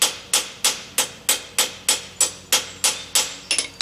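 A small hammer strikes blacksmith tongs in about a dozen sharp, evenly spaced metallic blows, close and loud with no talking.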